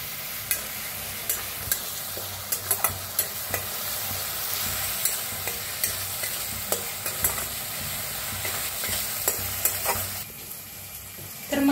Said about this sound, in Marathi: टाकूया जिरे 1 चमचा, थोडंसं हिंग, पेस्ट बनवून घेतलं ते टाकूया, कढीपत्ता। तर छान असं भाजून घेऊया